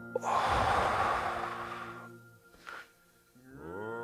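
A long, deep breath drawn in and slowly let out, loud and close, during a guided meditation, with a short sharp intake afterward and a voice starting to speak at the end.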